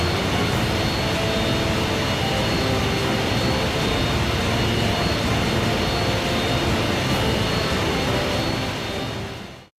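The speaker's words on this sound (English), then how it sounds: "The seaplane carrying Steve and Claire began to descend and made an emergency landing at an unknown facility" Seaplane descending toward an emergency landing in a Resident Evil game, a loud, steady engine roar with broad rushing wind noise that holds for nearly ten seconds before cutting off abruptly.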